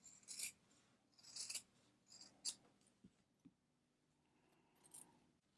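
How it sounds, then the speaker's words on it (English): Scissors snip fabric close to embroidery stitches on an in-the-hoop mug rug: a few faint, crisp cuts spaced about a second apart, followed by soft rustling handling. "I can cut this a little closer"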